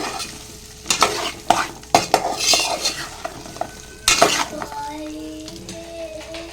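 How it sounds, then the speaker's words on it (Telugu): Okra frying with turmeric in a pan, stirred with a utensil that clanks and scrapes against the metal in irregular bursts over a soft sizzle, with faint tonal background sounds near the end. "ఇంకా పసుపు వేసుకొని బాగా కలుపుకుందాం. ఇవి కొంచెంసేపు ఇట్లా ఒక 5 మినిట్స్ అలా వేగాలి"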